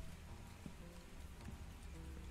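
Steady rain falls outdoors near garbage cans at night, a faint, even patter of drops on surfaces with a constant hiss and occasional heavier taps, no voices.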